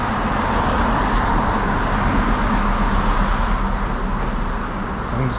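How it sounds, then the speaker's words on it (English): Steady road traffic on a Los Angeles street near Santa Monica, a continuous loud wash of passing cars with no breaks, heard up close from the roadside. "Back into the land of traffic and noise"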